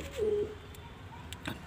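A short, low coo from a 3-to-4-day-old pigeon chick up close, followed by a few faint clicks and rustles.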